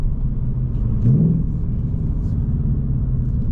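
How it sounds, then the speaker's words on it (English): A 2024 Ford Mustang GT on a back road gives a brief engine blip as it rev matches on a downshift. The blip rises out of a loud, continuous low cabin rumble and road drone, and no one speaks. "And here will be that rev matching."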